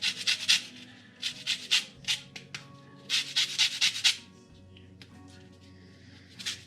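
Lemon zest grated by hand for a marinated chicken kebab recipe, heard as bursts of close, bright rasping strokes in quick runs of three to five, with short pauses between the runs.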